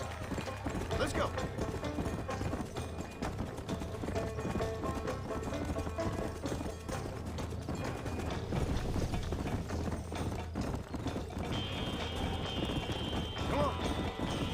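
Horses gallop in a race in the video game Red Dead Redemption, rapid hoof clip-clop with mechanical rattling and occasional whinnies, while a voice talks over the action.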